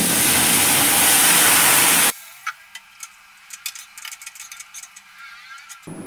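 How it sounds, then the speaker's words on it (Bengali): Milk poured into vermicelli frying in a hot pan sets off a loud, dense sizzle-hiss that runs steadily for about two seconds, then cuts off and leaves faint clinks and scattered small crackles. "আমি দুধটা ভালো করে জাল দিয়ে নিয়েছি। এবার আমি সিমুইয়ের মধ্যে দিয়ে দিচ্ছি।"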